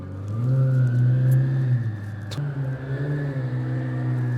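A twin turbo Lamborghini Gallardo speeding down a residential street, a loud sustained engine drone rising in pitch, a sharp gear change partway through, then pulling hard again, close by with no talking.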